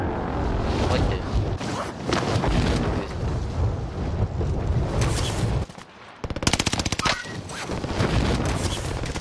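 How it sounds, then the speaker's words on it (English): A Nebula 5 bomb detonates in the distance during a Call of Duty Warzone match, a dense roar of rumbling blasts and crackling gunfire that briefly drops away, then returns in a rapid rattling burst before the roar resumes. "Nebula 5 bomb has detonated in the distance"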